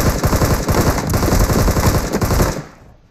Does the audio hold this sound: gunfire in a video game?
yes